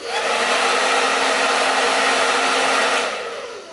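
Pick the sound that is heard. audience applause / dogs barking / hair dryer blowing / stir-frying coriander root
hair dryer blowing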